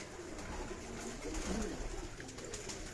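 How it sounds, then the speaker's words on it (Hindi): Dub breed pigeons coo steadily at a pigeon show, their soft, low throaty calls overlapping and repeating close by with no one speaking. "यही बड़ा कबूतर है।"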